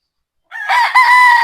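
A Sweater gamecock rooster crows once, loud and close, a sudden rising call that breaks into a sustained strained note after silence.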